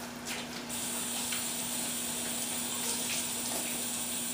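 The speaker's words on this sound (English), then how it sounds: "So I'm going to wash my hands really," Running tap water pours steadily as hands are washed under the faucet in a home kitchen during chicken roulade prep, a continuous close hiss with no talking.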